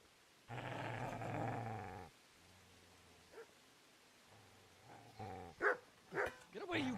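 A dog growls and barks in the medieval game Kingdom Come Deliverance: a long low growl, then short bursts of growling and sharp barks toward the end, with a voice shouting in between.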